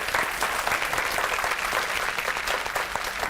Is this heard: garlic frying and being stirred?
no